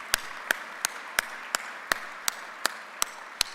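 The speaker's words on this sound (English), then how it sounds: "I want to have you join me in a large round of applause for the staff that actually makes this entire week happen" Crisp, evenly spaced hand claps at an awards banquet, about three per second, close and fairly quiet with no voices over them.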